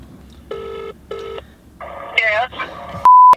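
Telephone ringback tones pulse twice, followed by a garbled phone message voice and a sharp beep, as an outgoing call goes unanswered.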